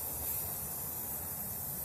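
An aerosol rattle can sprays paint onto a rusty cabinet at home, giving a continuous close hiss that holds steady and unbroken for the full stretch.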